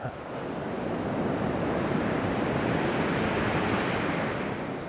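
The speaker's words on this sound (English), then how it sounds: "That wind's terrible." Strong wind buffets the microphone over steady crashing surf on Chesil Beach, a dense, continuous roar that holds loud and unbroken throughout with no voices.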